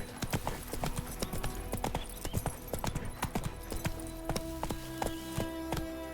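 Horse hooves clip-clopping in The Witcher 3, a steady run of sharp, close hoof strikes on hard ground with faint background ambience and brief voice.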